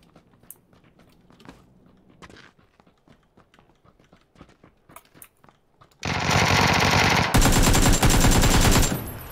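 Automatic gunfire in PUBG during a squad match on the Karakin map: a few faint clicks and taps, then a loud, sustained burst of rapid shots that rattles on to the end.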